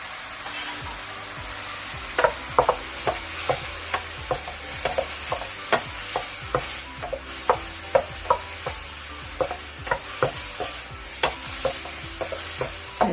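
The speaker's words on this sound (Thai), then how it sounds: "อันนี้เราจะใส่กุ้งลงไปนะคะ" Shrimp stir-fried with cauliflower in a pan, with steady sizzling under a regular rhythm of spatula strokes scraping and tapping the pan, close and fairly loud, no talking.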